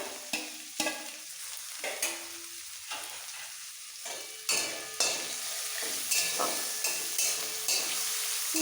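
Finely chopped onion sizzling in a hot pan while a spoon stirs it, with steady frying hiss and repeated scraping clinks at an even rhythm.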